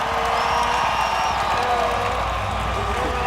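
A stadium crowd at the Monster Energy Cup motocross event roars and cheers steadily, with whistles and scattered clapping, a dense sustained wash of sound under an announcer's voice.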